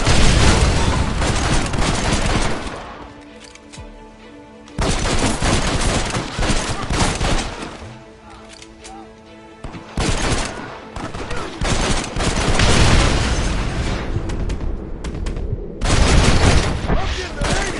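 A mounted gun in Red Dead Redemption, in the Blackwater area, fires loud sustained bursts of rapid gunfire, broken by short pauses between volleys, with voices shouting over the shooting.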